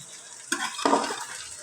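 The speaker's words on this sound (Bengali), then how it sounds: "এই দেখেন বন্ধুরা, কষানো কিন্তু হয়ে গেছে আমাদের চাল।" Rice fries in oil in a pot for bhuna khichuri, a close steady sizzle broken by two sharp stirring scrapes, with no talk.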